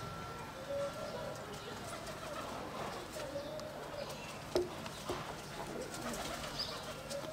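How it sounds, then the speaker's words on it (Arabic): Pigeons coo around a seaside apartment in Fatih, a soft repeated cooing over steady outdoor ambience with faint background voices. "الحمام يجي لكم لغاية عندكم هنا. الحمام ده يرمز للسلام."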